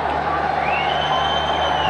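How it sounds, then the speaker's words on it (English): Packed stadium crowd at a Twenty20 cricket match between World XI and Pakistan, a dense roar of cheering with a rising whistle or whoop cutting through, continuous and fairly loud. "Almost all seats taken. Shouting slogans. Pakistan Zindabad."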